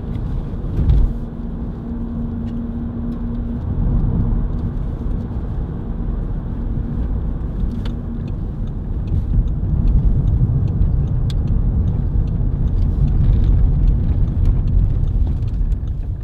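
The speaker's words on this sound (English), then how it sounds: "Through the gears, nice easy smooth gear change, light clutch" An Audi A3 1.9 TDI diesel hatchback drives through the gears, with a steady low engine and road rumble that shifts in level around each smooth gear change, heard from inside the car.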